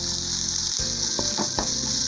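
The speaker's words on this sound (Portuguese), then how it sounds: "Vai dar uma leve refogada aqui. Nesse azeite aqui." Liver sautés in olive oil in a frying pan with a steady, loud sizzle, and a few scraping clicks of stirring sound over it.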